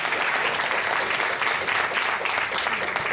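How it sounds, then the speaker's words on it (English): A concert audience applauds a jazz ensemble, dense sustained clapping filling the room evenly from start to finish without any voices. "how about a round of applause for this wonderful ensemble"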